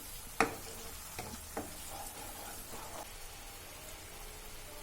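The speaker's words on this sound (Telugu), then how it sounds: "ఇలా ఆయిల్ మొత్తం బయటకు వచ్చే వరకు వేయించాలి." A coriander mixture frying in oil, a faint steady sizzle with a few sharp spatters and a couple of stirring scrapes, close and quiet, no talking.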